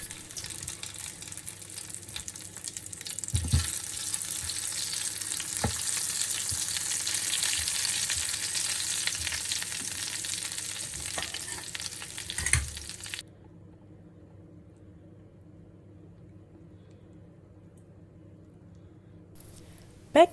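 Potatoes sizzle steadily in hot oil and butter with scraping and stirring noises, continuing for over ten seconds before dropping to a quiet low hum.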